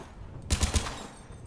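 Mass Effect 3 rifle firing a single three-round burst: three quick, punchy shots in tight succession, loud and close, standing alone against quiet game ambience.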